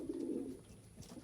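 Young pigeons cooing inside a loft, a low throaty coo up close that holds steady then fades over about a second, with no talking.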